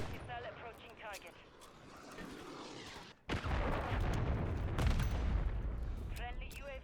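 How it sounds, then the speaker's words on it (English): Cruise missile strike in a first-person shooter game, a loud sustained explosive roar and rumble following a sudden cut, thick with low booming blasts and crackling debris, while game announcer voices speak over the action. "Friendly cruise missile approaching target."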